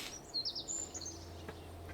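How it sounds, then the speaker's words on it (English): Faint birdsong plays as ambient sound in Kerbal Space Program, with a few short, high chirps and tweets near the start over a low, steady background hum. "I hear the birds."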